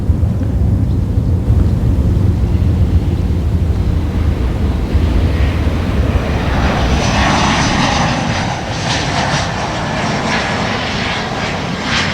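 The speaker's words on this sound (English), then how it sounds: "we have an American Airlines coming in over my shoulder from St. Louis, an E175" An American Airlines Embraer E175 jet airliner lands at Boston Logan Airport. A steady, loud broadband roar swells into a brighter, whining rush through the second half, with wind buffeting the microphone and no talking.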